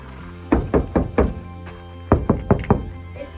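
Two bursts of hollow metallic bangs, four thumps each, struck close by on a van body panel with a low resonant boom.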